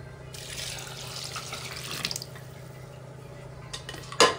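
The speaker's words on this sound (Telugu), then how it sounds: "సో నేనైతే ఇప్పుడు వాటర్ యాడ్ చేస్తున్నా." Water runs in a steady stream into a cooking pot in a home kitchen for a couple of seconds, then tapers off into quieter trickles and a few sharp clinks near the end.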